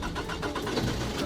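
A car engine starts after sitting unused for eight months, settling into a steady mid-pitched rumble with no voices over it.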